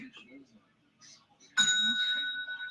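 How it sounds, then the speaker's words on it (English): A bright bell ding sound effect on a football talk show strikes once and rings on with a sustained tone, following a moment of talk. "Ring the mentioned bell."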